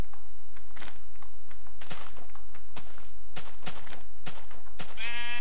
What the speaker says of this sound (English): This is our sheep.